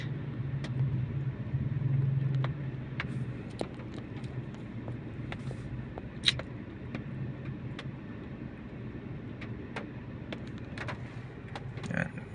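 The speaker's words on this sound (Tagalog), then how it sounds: "Yan ang traffic." Road traffic near an intersection on the way from Pasig to Antipolo, with a steady rumble of passing cars and engines and scattered clicks and knocks, heard from nearby with no talking.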